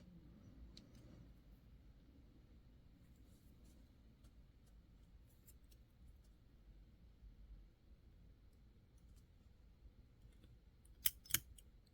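Scissors trim fingernails in a quiet room, with two quick, crisp snips close together near the end after a long stretch of faint background hiss.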